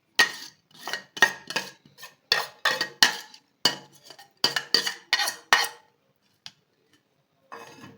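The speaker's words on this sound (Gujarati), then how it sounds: "હવે આ વરિયાળીને આપણે ગાળી લેશું, જેથી વધારાનું પાણી હોય એ નીકળી જાય." Soaked fennel seeds pressed and strained in a metal strainer to drain excess water: a quick run of rhythmic scraping, clinking strokes, close and crisp, then a pause and a few more scrapes.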